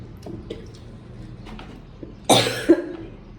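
A person gives a single harsh, loud cough close by after a few seconds of quiet room noise, followed by a short throaty sound.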